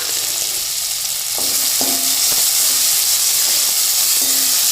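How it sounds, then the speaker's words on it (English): Green chilies and chopped onion sizzling loudly in a hot pan for honey chilli potato, a dense, steady hiss with a few faint tonal clinks and scrapes of stirring, close up and with no speech. "I'm going to add in the green chilies and the chopped onion."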